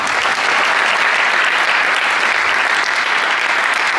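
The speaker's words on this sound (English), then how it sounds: "Give everybody a big round of applause." A high school post-prom crowd at a hypnotist show breaks into loud, sustained applause, close and continuous for several seconds with no talking over it.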